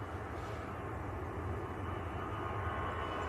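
EasyJet airliner taxiing at Manchester Airport, a steady, broad engine roar and rumble holding evenly at a distance with no voices.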